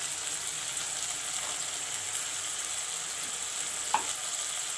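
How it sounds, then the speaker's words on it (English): Masala with chili, cumin and coriander powders fries with fresh methi leaves in a pan, an even, close hiss of sizzling oil with a soft scrape of stirring near the end. "fry the masala with the methi saag"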